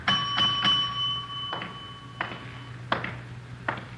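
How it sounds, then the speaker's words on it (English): A desk bell at an unattended hotel front desk chimes several times, bright ringing dings with a lingering tone, struck irregularly over a low background hum. "Nobody at the desk. I'll ring the bell."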